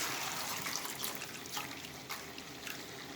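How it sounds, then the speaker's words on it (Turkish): Liquid drains from a large batch of cooked meat kavurma through a colander as a continuous close trickle and splash of running water, with no talk. "Bu kalan etimizi de şimdi bir kevgirde süzüp üzerine koyacağız."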